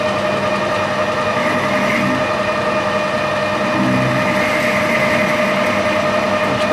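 A metal lathe machining a nut, a steady broadband cutting hiss and whine with faint tonal ringing, continuous and close, no voices.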